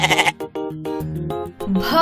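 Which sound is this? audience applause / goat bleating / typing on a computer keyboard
goat bleating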